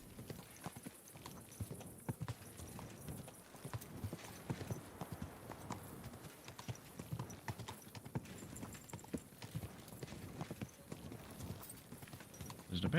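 Horse hooves clip-clop steadily in the video game Kingdom Come Deliverance II, a continuous rhythmic trot heard close up throughout, with talk over it.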